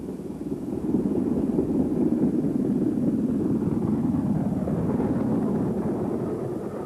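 LMS Black 5 steam locomotive 44932 of the Midland Trust runs in Derbyshire, a continuous low, heavy rumble and roar holding steady throughout at fairly close range, with no voices.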